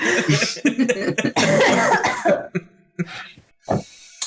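A sick person coughs repeatedly in harsh bursts after trying to drink tea, several close together, then a few separate coughs after short pauses; no talking.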